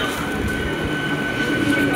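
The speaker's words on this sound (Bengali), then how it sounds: "ফাইনালি ট্রেন আসছে 1 ঘন্টা ওয়েট করার পর।" A train pulls into a station platform on a line under track maintenance, giving a steady close rumble with a sustained high squealing tone and faint voices in the background.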